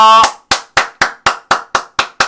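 A group claps in unison, nine sharp even claps in a steady rhythm, close and loud, right after a brief tone.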